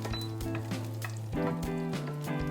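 Chopped garlic frying in hot oil in a pan, a soft steady sizzle under faint clinks and a background hum, with no voices.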